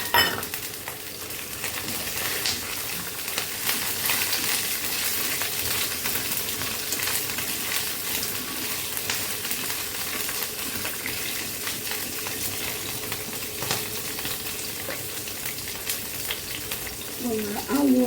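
Soaked sweet corn frying in hot oil, a steady dense sizzle with crackling that runs throughout at close range, with faint stirring and a brief voice near the end.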